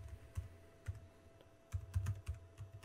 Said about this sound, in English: So we're going to type emergency